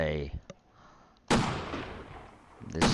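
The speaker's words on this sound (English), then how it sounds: "this is the silent sniper rifle" A silenced sniper rifle fires in a video game: a sharp muffled crack at the start, then a louder burst with a lingering rumbling tail, and another shot beginning right at the end.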